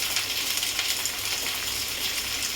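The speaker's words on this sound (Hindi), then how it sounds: "प्याज को मैं अच्छी तरह भून लेती हूँ" Onions fry in a pan for a spicy jackfruit curry, giving a dense, even sizzle that crackles steadily throughout, close and moderately loud with no talking.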